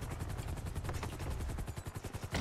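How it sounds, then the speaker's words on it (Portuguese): A helicopter in the GTA roleplay video game beats loudly overhead, its rapid rotor chop pulsing steadily and growing more distinct toward the end. "esse helicóptero tá fazendo mó barulhão"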